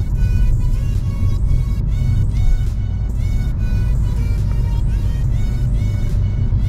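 Volkswagen Jetta TSI engine held in manual gear while descending a winding mountain road, a loud, steady low drone with light engine rumble throughout and no talking.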